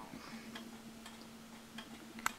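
A jack striking wall clock ticks softly and evenly, about four quiet beats under a faint steady hum, ending with a small sharp click.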